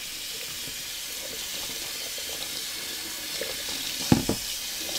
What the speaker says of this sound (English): I'll rinse this out real quick